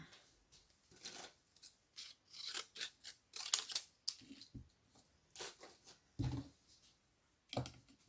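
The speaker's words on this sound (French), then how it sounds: "Et je vais passer dans ma machine de découpe." A small Sidekick die-cutting machine cuts paper labels for scrapbooking, giving a run of sharp crunchy clicks and rasping bursts with brief pauses between them, close up and fairly quiet.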